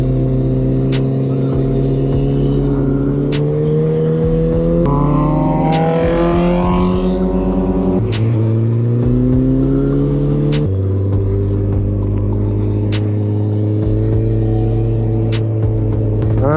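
A motorbike rides repeated laps around a roundabout, its engine note sustained and loud throughout, rising and dropping in pitch as the rider shifts gears and changes throttle, with no talking.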